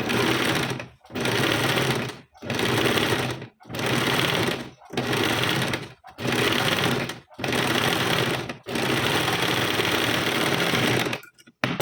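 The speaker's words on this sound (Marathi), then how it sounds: "त्या दोन्हींचे सेंटर एक करून आता शिलाई मारून घ्यायची" Sewing machine stitching the cross panel of a size 38 tucks blouse, running in about eight steady loud bursts separated by short pauses, with one longer final run and no talk.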